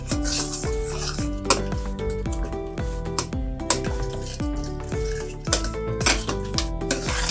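Coconut mawa mixture stirred in a pan over low heat, a metal spoon scraping and clinking against the pan in a steady repeated rhythm, close and clear with faint background tonal ringing and no speech.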